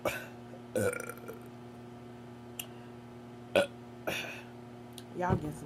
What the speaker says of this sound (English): Y'all get some good burps.